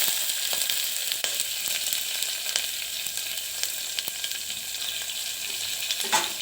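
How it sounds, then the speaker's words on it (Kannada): Cumin seeds fry in ghee in a pan with a steady, close hissing sizzle, broken by a few light stirring scrapes and brief crackles. "ಸಿಮ್ಮಲ್ಲಿಟ್ಟು ಜೀರಿಗೆ ಹಾಕಿ, ಯಾಕಂದರೆ ಜೀರಿಗೆ ಬೇಗ ಇದಾಗಿಬಿಡುತ್ತೆ, ಕರ್ಗೋಗ್ಬಿಡುತ್ತೆ."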